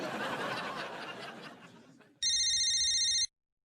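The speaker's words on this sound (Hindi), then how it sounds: "फोन।" A telephone rings once in a steady electronic trill, loud and close, following a stretch of people talking and laughing.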